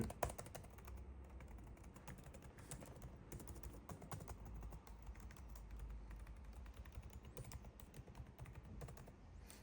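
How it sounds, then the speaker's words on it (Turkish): Keys on a Lenovo Legion Pro 5 gaming laptop keyboard are typed in a quick, steady run of soft, close clicks and taps, continuing for several seconds with no talking. "Yani klavye tuşlarını da hatta size şöyle gösterebilirsem sesini"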